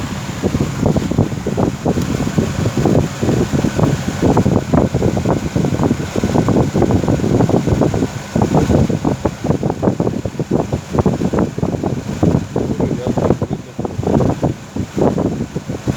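A steady, loud whirring hum of an electric blower motor feeding air to a forge, running continuously, with a rushing airflow noise throughout.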